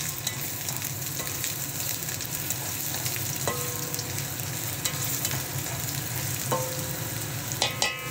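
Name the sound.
ginger sizzling as it fries in a pan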